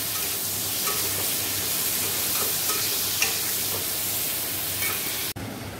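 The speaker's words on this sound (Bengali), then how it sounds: "ফুলকপিটা ভেজে নিচ্ছি আগে।" Cauliflower and potato frying in a pan for a home-cooked curry, a steady close sizzle with occasional small pops and stirring scrapes, cutting off abruptly near the end.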